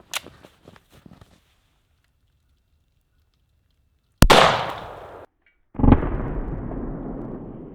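A PSA Rock pistol in 5.7 fires two loud, sharp shots at cans, each followed by a long rumbling echo, with faint clicks and handling noise before them.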